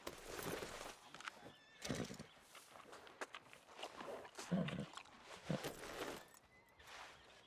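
A horse in the video game Red Dead Redemption 2 gives several whinnies and snorts, mixed with hoof clops and shifting movement, at a moderate, uneven level.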